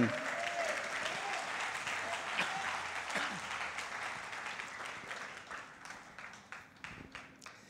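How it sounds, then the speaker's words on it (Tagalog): A church congregation of Holy Ghost believers claps loudly for the Lord, a dense, sustained burst of applause that gradually thins into scattered claps toward the end. "Pwede bang bigyan muli ng malakas sa palakpak si Lord?"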